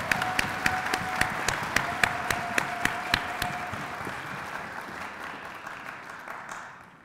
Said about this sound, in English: let's give him a round of applause to kick it off